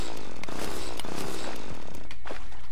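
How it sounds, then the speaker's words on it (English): Drilling through blocks in Terraria, a steady buzzing whir with pulsing bursts that runs throughout, loud and close, with no talking. "all you have to do is just drill through a couple holes like that"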